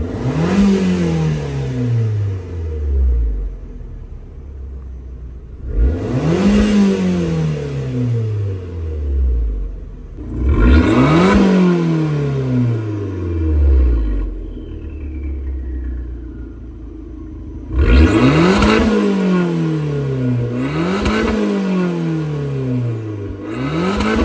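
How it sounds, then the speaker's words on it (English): A 2017 Abarth 595 Turismo with a 1.4 T-Jet engine revs in sport mode, giving five sharp blips that each rise and fall. The last two come close together, and the car is loud and close with no talking. "Now let's get it in sport mode and let's see how it sounds."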